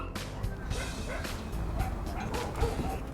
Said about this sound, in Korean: 홀로 남겨져 있으면 누군가 올 때까지 계속 짖는 이상 행동